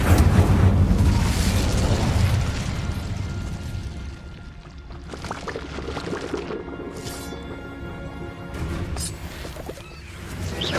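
Bombardo spell exploding in Hogwarts Legacy, a loud rumbling blast at the start that fades into a lower crackling, bubbling aftermath, followed by scattered sharp clicks and pops.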